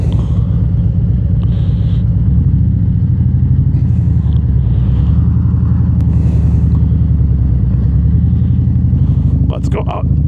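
A 2024 Harley-Davidson Road Glide with a Screamin Eagle Pro Street Tune in sport mode rumbles loudly and close, a deep continuous engine throb that stays steady throughout.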